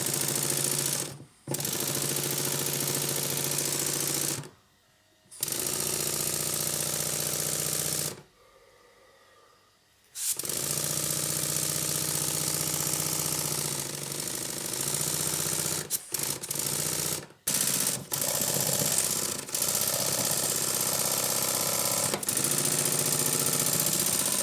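A Stuart 7A model steam engine runs with a steady mechanical chugging hum, interrupted by several abrupt stops and brief near-silent gaps before resuming; no talking.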